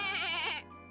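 A cartoon baby sheep gives one short, high, wavering bleat, close and clear, ending abruptly in near silence.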